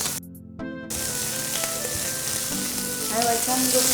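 Zucchini and corn frying in oil in a pan, a steady loud sizzle after a brief quiet start, with occasional clinks and stirring sounds close by.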